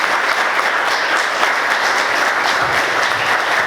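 A church congregation claps hard and continuously in a thick, steady wash of applause, loud and roomy, with faint low murmuring underneath and no clear speech.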